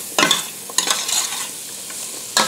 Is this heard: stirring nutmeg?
yes